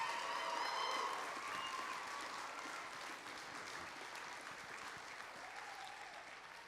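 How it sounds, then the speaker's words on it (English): A graduation ceremony audience claps and applauds continuously, loudest at the start and then tapering slightly, a dense wash of hands with no speech. "Round of applause for all of our graduates."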